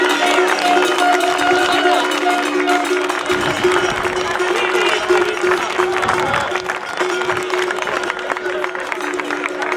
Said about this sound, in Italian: Un applauso per questi due ragazzi.